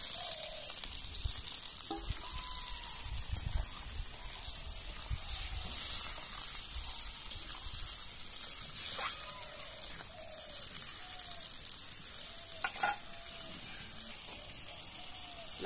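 Fried pointed gourd and potato chunks sizzle steadily in a pan of hot oil for a village-style poppy-seed dish, with occasional scraping clicks from stirring over the continuous frying hiss.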